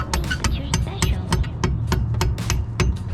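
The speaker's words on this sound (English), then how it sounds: "with the pin punch, I just go ahead and hit it on the other side" A hammer strikes a pin punch to drive the brake pad pin out of a Brembo caliper on a Dodge Challenger Scat Pack, a rapid series of about a dozen sharp metallic taps, close and fairly loud.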